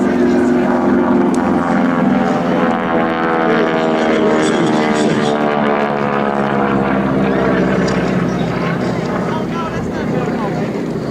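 A North American T6 Texan propeller airplane drones loudly overhead at an air show, its pitch sliding as it passes, steady and close for several seconds.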